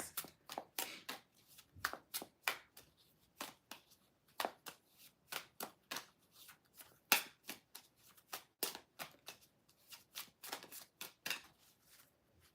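Tarot cards being shuffled by hand, a rapid run of crisp riffling bursts and soft slaps in uneven rhythm, close and fairly quiet with no talk.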